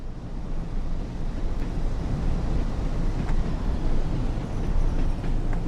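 A Class 101 diesel multiple unit accelerates on the Northern Trans Pennine line in Train Sim World, giving a steady, loud engine and rail rumble that holds evenly throughout with no talking.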